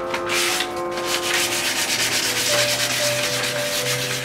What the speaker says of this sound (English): when sanding, I like to do a little circles